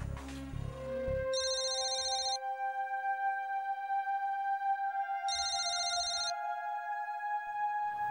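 A phone ringtone plays in two bursts of bright repeating tones, with sustained electronic notes between them, fairly loud and close.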